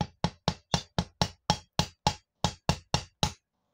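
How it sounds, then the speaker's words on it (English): Thirteen sharp, evenly spaced hammer taps on a 250 watt brushed scooter motor resting on a solid flat surface, each a crisp close knock with a quick decay and a short pause before the last few. "Give it a nice little firm tap."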